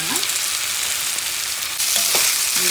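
Cooked vermicelli with grated carrot and vegetables sizzles in a pan over low flame, a steady close frying hiss with occasional scrapes of a spoon stirring through, growing a little louder partway.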